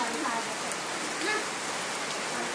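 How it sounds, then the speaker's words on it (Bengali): Heavy rain falls in a steady, dense broadband hiss that stays level from start to finish, with no clear voices above it. "অনেক বৃষ্টি হচ্ছে"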